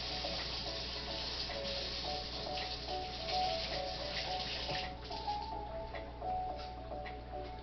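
Water runs steadily from a kitchen tap while something is rinsed off during deviled egg preparation, a constant close hiss with faint light ticking and no talking.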